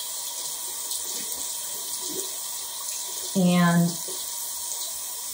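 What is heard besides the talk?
warm water running from a tap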